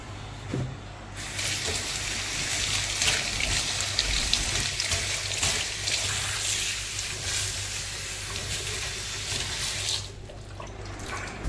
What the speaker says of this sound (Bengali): মানে এখন এই পাতাগুলোকে একটু জল দিয়ে দিতে হবে, তাহলে কিন্তু টাটকা হয়ে যাবে। তো চলো জল দিয়ে দিই।